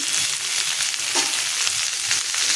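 A loud, steady sizzle rises from a pan of frying potatoes and pointed gourd as fried prawns are added. The hiss continues evenly without a break, with light stirring underneath.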